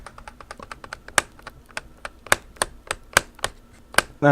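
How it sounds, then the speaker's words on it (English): Clacky mechanical keyboard typing up close, a quick irregular run of loud key presses with a few heavier strikes mixed in. "That's why my keyboard's so loud."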